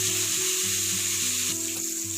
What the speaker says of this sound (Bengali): দুটো মাছ একসঙ্গে ভাজা যাবে না, তাই আমি মাছ দুটো আলাদা আলাদা করে ভেজে নেব।